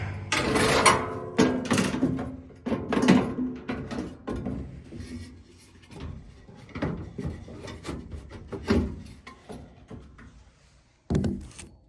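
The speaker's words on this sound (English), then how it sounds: "So let's put the door back on." An air conditioner's door panel being fitted back on: a series of faint plastic knocks, thunks and clacks at irregular intervals, with handling noise between them.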